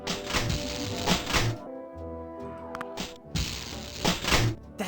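Buttons pushed in The Curse of Monkey Island: a series of clacking, thumping mechanical presses in two clusters with a short lull between, fairly close and clear, no talking.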